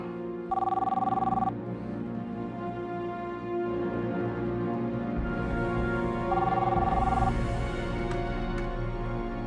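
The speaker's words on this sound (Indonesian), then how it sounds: "Kalau itu telepon dari Dinda kakak kamu" A telephone rings in two separate bursts over a steady background bed of music, the electronic trill clear and fairly loud each time.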